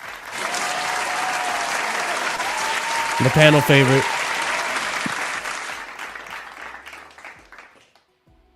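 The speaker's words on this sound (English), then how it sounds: "I'm going to just give you a round of applause" A round of applause runs steadily for several seconds, then fades out. A voice speaks briefly over the clapping partway through.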